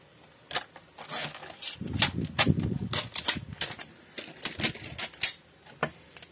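Paper being recut to 10 by 22.5 for a scrapbook guestbook, with repeated crisp cutting and rubbing strokes, close and fairly busy.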